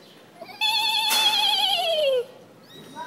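A child imitates a horse whinny, a single drawn-out high-pitched neigh-like cry that slides downward in pitch, loud and close, with no other talk during it.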